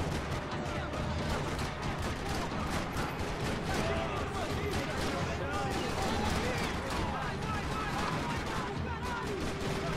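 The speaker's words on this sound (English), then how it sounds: "Another parking lot rattling with gunfire." Gunfire in a Max Payne 3 shootout across a parking lot, continuous dense rattling shots and bursts throughout at steady loud level, with game voices and effects mixed underneath.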